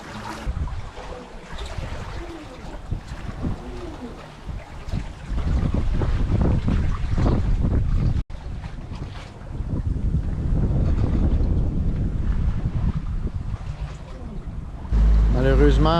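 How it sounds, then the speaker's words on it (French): Wind gusting over a sailboat at sea on a passage toward Porto Santo, a loud, rough rumble that buffets the microphone, rising and falling, with water noise beneath and a short dropout midway. "Malheureusement, le vent affaiblit encore une fois."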